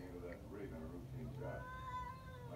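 A cat meows repeatedly to be let inside on a cold day, several short plaintive cries close by, with a person speaking over them.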